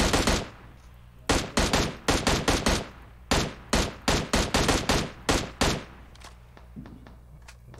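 Rapid bursts of game gunfire, clusters of sharp shots fired in quick succession with short pauses between, loud and close.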